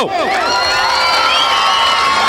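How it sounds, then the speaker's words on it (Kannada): A crowd at a children's mallakhamb and yoga show claps, cheers and whistles, with rising and falling shrill whistles over a steady roar of applause, loud and close. "ಇನ್ನೂ ಜೋರಾಗಿ ಚಪ್ಪಾಳೆ ಬರಬೇಕು ಶಿಳ್ಳೆ ಬರಬೇಕು"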